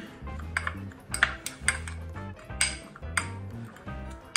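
A spoon mixes cayenne pepper powder and other spices in a bowl for a grilled goat steak, making a quick series of close, bright clinks and scrapes against the bowl in an uneven rhythm.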